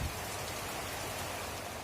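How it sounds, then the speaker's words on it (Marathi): Dense, steady monsoon downpour hissing evenly on surfaces, a continuous wash of drops with no pauses, after a night of heavy rain. "पूर्ण असे पावसाने रातभर मुसळधार असा पाऊस पण अजूनही चालू आहे"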